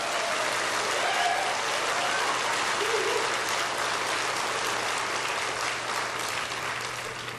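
A church congregation gives sustained applause during a sermon, a dense, even wash of clapping that holds steady for several seconds before tapering slightly toward the end.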